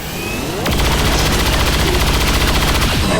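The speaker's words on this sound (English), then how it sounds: "Manzer closes in, and he opens fire" Soldier Manzer firing a weapon in the strategy game XCOM: a loud, sustained burst of rapid automatic gunfire that starts after a short lead-in and continues to the end.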